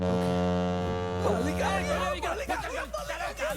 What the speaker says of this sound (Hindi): अचानक से शिप का हॉर्न बजता है